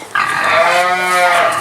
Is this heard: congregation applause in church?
no